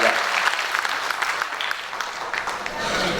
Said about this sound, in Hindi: बहुत बहुत जोरदार तालियां।